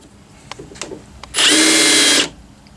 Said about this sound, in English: All we're gonna do is put a little chamfer on it with a countersink.